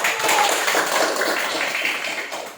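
A classroom group claps together after a teacher's call for applause, producing a steady, dense wash of hand claps that holds evenly for a couple of seconds before tapering off.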